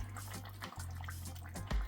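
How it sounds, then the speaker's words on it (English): Water is poured into a pot of boiling oxtail on the stove, a brief splashing and gurgling over a low steady hum. "it's boiling down to oil, so it's time to add a cup of water or more"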